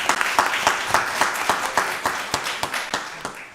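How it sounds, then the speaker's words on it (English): Round of applause in a county board of commissioners meeting room, a moderate group clapping steadily with a regular rhythm of individual claps audible, tapering slightly toward the end. "give Charlotte Gillett a round of applause"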